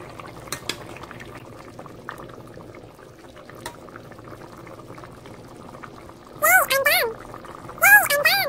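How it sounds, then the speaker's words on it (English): Korean spicy chicken stew with a slice of kelp in water, boiling steadily over medium-high heat: a low continuous bubbling simmer, with brighter louder bursts of bubbling and sizzle near the end. "Add a slice of kelp and boil over medium-high heat"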